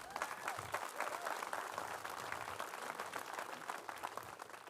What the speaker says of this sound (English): I'll just pretend that clap was for me coming on stage